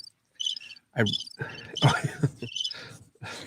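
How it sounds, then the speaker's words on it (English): Cricket chirp sound effect plays as bursts of high, pulsing chirps with short gaps, mixed with a voice talking over parts of it. "I played the cricket sound effect because he wrote it in."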